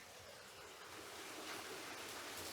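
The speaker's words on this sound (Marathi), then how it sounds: "तो हा बघा वॉटरफॉल" A waterfall at a cold mountain stream near a campsite pours with a steady, broadband rushing roar, faint and distant with no voices.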